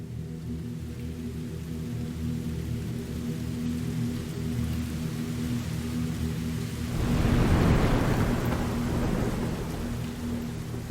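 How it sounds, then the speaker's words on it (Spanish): A storm rumbles in steady rain, then a deep roll of thunder swells up midway and fades back under the continuous downpour, with no voices present. "Un trueno en el oeste anunció la proximidad de la tormenta y la noche."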